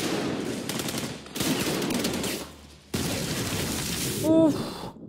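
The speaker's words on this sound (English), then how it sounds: "That was a gas explosion, kid." A gas explosion scene from The Dark Knight Rises, heard as loud rumbling blasts and crackling bursts in several dense bursts with brief gaps, mixed into film sound.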